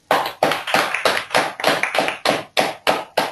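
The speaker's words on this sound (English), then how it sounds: "Can we guys get an applause for Harnoor Kaur?" A small seminar audience claps for a guest speaker in a roughly synchronized rhythm, about ten sharp, loud, evenly spaced claps in a row with no talk over them.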